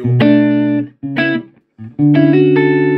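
Roland Blues Cube Stage 60 W solid-state amp with a Robben Ford tone capsule carrying an electric guitar: three separate strummed chord phrases with short gaps, slightly overdriven, loud and close, no voices.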